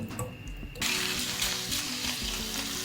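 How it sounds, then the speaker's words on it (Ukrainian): Steady loud sizzling of meat frying in hot oil in a pan, a crackling hiss that starts abruptly and continues. "На сковорідку вливаю олію і вкидаю м'ясо."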